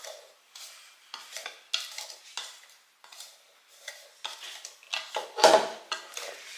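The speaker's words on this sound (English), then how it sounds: "We're just gonna mix that a while until it becomes incorporated to about the size of peas." Crumbly streusel topping for a rhubarb torte being mixed in a bowl, close rhythmic scraping and rubbing strokes in irregular bursts with short pauses between them, no voices.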